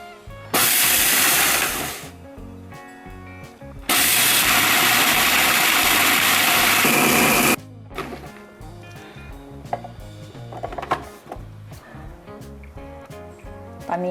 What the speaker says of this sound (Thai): เราจะปั่นนะคะ ถั่วเขียวล้อเปลือกเนี่ยให้ละเอียดเลยนะคะ